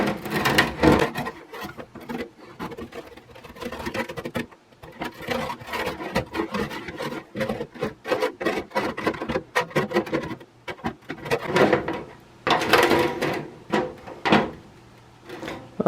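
A plastic spatula scrapes across a non-stick cookie sheet on an uneven surface, making repeated close scraping and rattling strokes with clattering of the metal pan and no talk.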